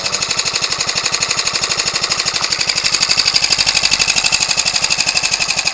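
A Ryobi 29cc four-stroke engine fitted to an RC aircraft runs steadily with a loud, rapid, even firing rhythm, close to the mic and alone.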